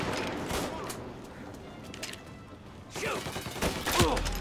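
Gunfire in the crime video game Mafia, scattered bursts of shots mixed with game noise, heaviest toward the end, with a voice talking faintly underneath.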